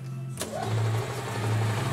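An EZ-GO golf cart engine cranks after a sharp click, turning over with a brief, close, rhythmic whirring drone.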